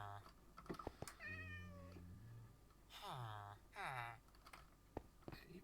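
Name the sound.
cat meowing in Minecraft (video game)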